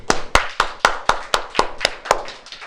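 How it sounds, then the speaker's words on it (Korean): A church congregation claps in praise to God at a Sunday service, a steady run of about ten sharp, even, loud claps in quick rhythm with no talk over them. "우리 한번 하나님께 영광의 박수 한번 올려드리겠습니다"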